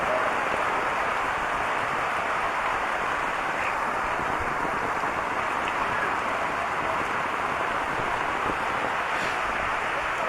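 Rain falls steadily in a village, a constant even patter with a faint hint of wind, with no talk over it.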